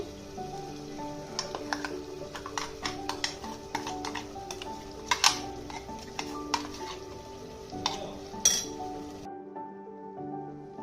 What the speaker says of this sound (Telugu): ఇప్పుడు ఇందులో మనం రెడీ చేసి పెట్టుకున్న మసాలా పేస్ట్ మొత్తం కూడా వేసేస్తున్నాను